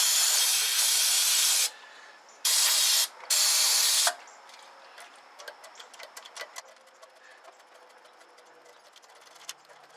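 WD-40 is sprayed onto the choke linkage of a 1964 Ford Thunderbird in three loud hissing bursts up close, followed by faint ticking and clicking of metal parts being worked.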